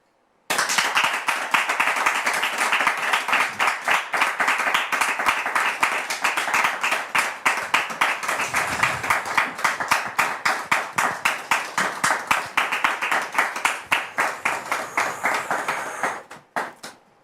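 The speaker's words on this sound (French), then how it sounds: "On va tout de suite la recevoir, très cher public, sous vos applaudissements" Studio audience on a French talk show applauding as a guest walks on, a dense sustained round of clapping lasting about sixteen seconds before tapering off into a few scattered claps.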